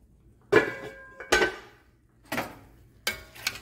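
Congrí rice being stirred in a clay cazuela: four separate scraping, clinking strokes of a utensil against the pot, spaced about a second apart, close and moderately loud, with quiet between them and no talking.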